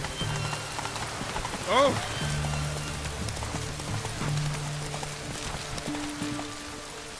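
Roach the horse gallops through rain in The Witcher 3, with steady hoofbeats under a constant wash of rainfall, music, and a brief shouted exclamation.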